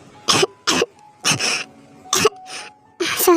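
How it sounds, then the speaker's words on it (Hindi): Repeated harsh coughing fits, close up: several short bursts in quick succession, some doubled, with brief pauses between. "टी बहुत ही खांसने लगती है।"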